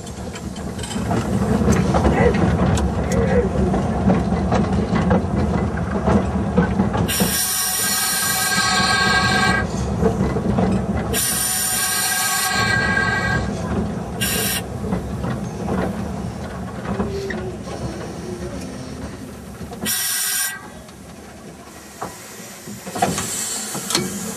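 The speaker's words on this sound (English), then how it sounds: "Leaving the station of Flordonfilms is quite a challenge for the engine crew because we have a steep climb here" A Talyllyn Railway train pulls out of a station onto a steep climb, a continuous rumble of engine and rolling wagons with rail clatter and several loud bursts of hissing, fairly close.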